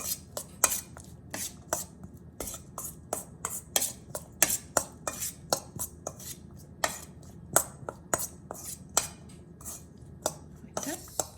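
Food being stirred in a bowl to coat it: a steady run of sharp utensil clicks and scrapes against the bowl, close and fairly quiet, with no talking over it.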